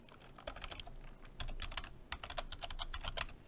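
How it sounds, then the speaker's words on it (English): Rapid typing on a computer keyboard, with quick irregular bursts of light clicking keystrokes and brief pauses, fairly close and quiet, with no talk. "So in here, you want to type in begin"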